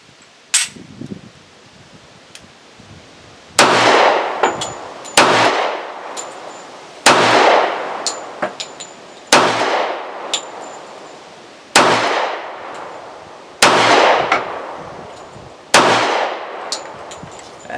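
A Smith & Wesson 457 pistol in .45 ACP fired outdoors with a Smith magazine, eight sharp, loud reports spaced about two seconds apart, each ringing off with a metallic clang and echo, with fainter handling noises in between.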